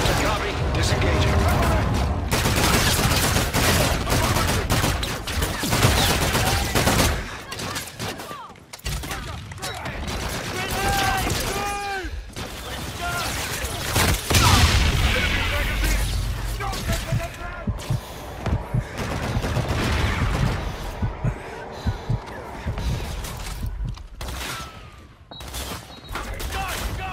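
Aircraft gun-run fire in Call of Duty Infinite Warfare, dense bursts of fusillade and mechanical weapon clatter sustained loudly throughout, mixed with battle noise and radio chatter over it.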